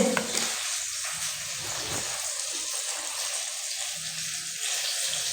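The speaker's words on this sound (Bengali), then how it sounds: "ঝটপট করে বেগুনিগুলো ভেজে নিই" Battered eggplant fritters (beguni) fry steadily in hot oil in a home kitchen, a continuous loud sizzling hiss with a faint low bubbling underneath, running unbroken from start to finish with no talking.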